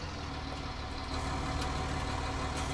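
A tractor engine idles in a steady, low, continuous rumble, close and fairly loud, with no talk over it.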